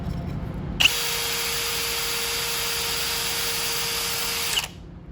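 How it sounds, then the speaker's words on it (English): An electric drill reaming out a hole runs steadily for about four seconds, a close, continuous high whine that starts and stops abruptly. "we're going to use this drill to open it up a little bit"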